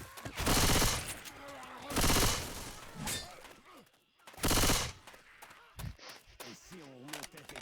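Gunfire in the game Left 4 Dead 2 comes in several loud, dense bursts of rapid shots separated by short pauses, with quieter clatter and game voices between them.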